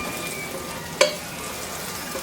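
Garlic and chillies sizzle softly in a frying pan, with a single sharp clink of the utensil against the pan partway through over the steady frying hiss.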